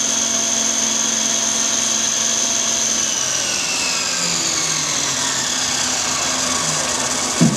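A 626 milling machine runs at full speed, giving a steady close whine with a high tonal hum from the pulley and belt drive, shifting slightly in pitch toward the end, with no voices.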